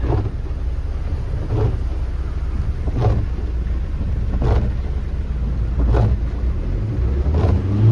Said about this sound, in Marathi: आणि आपल्यामुळे केवढी लाट तयार होते बघा.